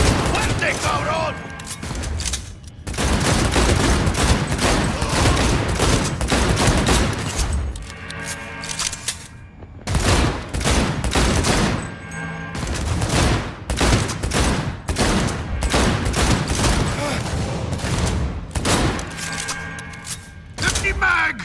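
Gunfire in the video game Cyberpunk 2077 comes in loud, dense bursts of rapid shots, broken by short pauses, with a few voices calling out in between.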